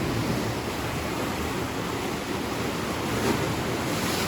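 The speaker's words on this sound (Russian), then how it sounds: "Смотрите на море." Black Sea waves washing onto the Crimean coast, a steady loud rush of surf with wind noise on the microphone, continuous and close, with no voices.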